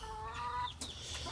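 Chickens cluck and squawk close by while scrapping over a mouse, with a few sharp excited calls breaking through a busy farmyard background.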